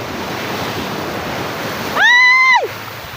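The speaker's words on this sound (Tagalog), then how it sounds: "Lakas ng alon." Strong waves surge and rush continuously along a river or shore, a loud hiss of churning water, briefly cut by a sharp whistle-like tone near the end.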